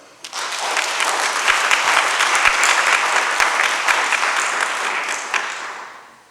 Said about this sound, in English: And also let's give another round of applause for our great pioneers, Gil Noble, Brother Ilombe, and Dr. Ben.